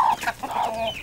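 A rooster, a common-looking bird rather than a pedigree one, gives a short loud burst of clucking and crowing calls close by, with no talk.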